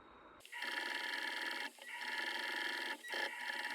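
A sewing machine runs in close, steady bursts of stitching with a droning mechanical hum, pausing briefly twice between runs, with no talking over it.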